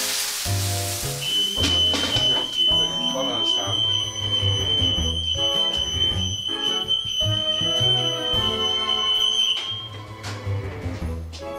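A smoke alarm sounds a shrill, steady high-pitched tone continuously for several seconds over music and background noise in a house, then cuts off.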